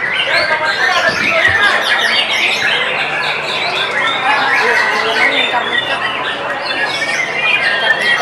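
Dense chorus of white-rumped shama song at a songbird contest in Bogor, with shrill whistles and chirps from many birds at once, steady and loud, with a crowd murmuring underneath.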